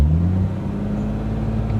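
A BMW E30 fitted with an N54 engine that has a cylinder 3 misfire revs up close by, making a deep, loud rumbling drone that dips slightly and then holds steady.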